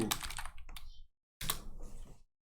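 Fingers typing on a computer keyboard, a rapid run of crisp clicking keystrokes in two close bursts separated by a brief silence.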